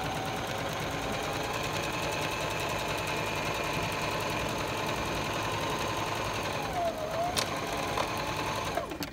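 A sewing machine stitches a standard seam with a back stitch, humming steadily and close for the whole stretch, with a brief squeaky shift near the end.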